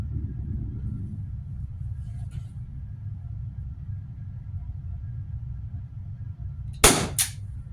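Two sharp, close shots from a T4E SW MP9 pistol firing 11mm steel balls, fired in quick succession near the end after a long stretch of low background rumble.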